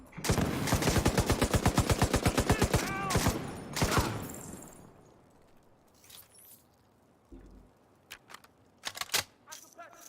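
Rapid, loud video-game gunfire in The Division 2 as shotgun enemies attack, a dense run of sharp shots over the first few seconds, then scattered single blasts that fade to sparse bangs toward the end.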